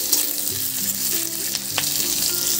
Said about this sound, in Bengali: পেঁয়াজটা হালকা বাদামি করে ভেজে নেব।